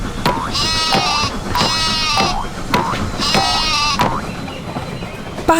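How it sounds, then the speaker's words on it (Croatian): A sheep bleats three times in a row, each a loud wavering baa, with a shorter fourth call at the end over a continuous low background rumble. "Ovca."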